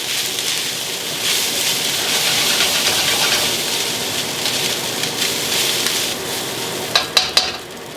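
Cooked brown rice and garlic fry in a pan with a loud, continuous crackling sizzle. Near the end a few sharp spoon clinks and scrapes break through.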